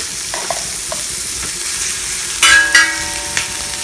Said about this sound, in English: We want to render all that bacon fat and cook everything else in it.